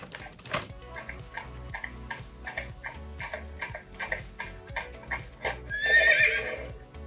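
A mechanical toy horse clicks in a steady ticking rhythm, then lets out a short, high, electronic-sounding whinny near the end; close and fairly quiet.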